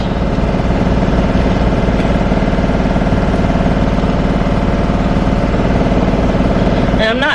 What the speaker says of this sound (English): That washing machine going wild, y'all.